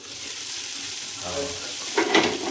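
Fish sizzling as it fries in oil in a pan, a steady close hiss with a louder crackling burst toward the end.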